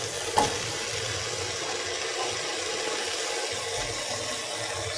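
Long yard beans and tomato pieces being stirred in a pan, a steady sizzling hiss with soft scraping throughout and one brief knock near the start, no voices.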